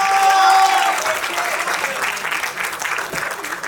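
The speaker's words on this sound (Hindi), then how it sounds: "जोरदार तालियों से स्वागत" A theatre audience applauds after a stage play, with loud, dense clapping throughout that eases off slightly toward the end.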